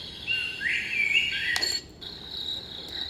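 Night forest insects from a baby white-noise machine: crickets trill in a continuous high, shimmering chirr, steady and moderately loud, with a short dip partway through.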